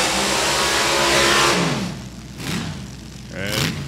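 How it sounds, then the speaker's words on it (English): High-horsepower hot rod cars rev loudly and continuously at a drag strip event at Beach Bend, the engine roar swelling and then settling into a few throaty, pulsing bursts as the cars idle and build power. "Now we got the real high horsepower cars starting to come up here."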